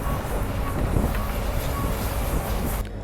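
Train pulling into Rangapara North railway station on a route lined with tea gardens, a steady, loud rolling rumble with metallic rattling throughout that dips slightly at the very end.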